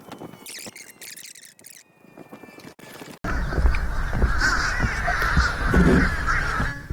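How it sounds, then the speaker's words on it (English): Harsh, raspy grackle calls repeat over a busy background of chatter from a large colony, loud and close, after a quieter opening stretch. "we also have a whole colony of grackles out there crackling away and flying around"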